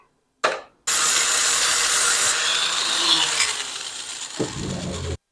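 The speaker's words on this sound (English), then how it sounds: "While I got the grinder out, I will work on this as well so it doesn't rub" An angle grinder cuts into a metal part on a 1977 Honda CB750 chopper, a loud, harsh, continuous whine that starts abruptly, runs for several seconds and drops off near the end.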